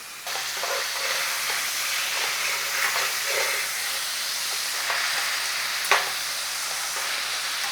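Homemade paneer pieces fry in a pan with a steady, fairly loud sizzle and hiss that runs throughout, broken by soft stirring scrapes and one sharp clack near the end.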